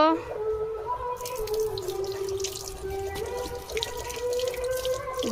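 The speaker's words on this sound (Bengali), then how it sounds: "কলা পাতাটাকে এখন আমরা ধুয়ে নেব।" Running tap water splashes steadily over a banana leaf being washed in a sink, close and continuous with trickling and dripping, while a voice talks faintly underneath.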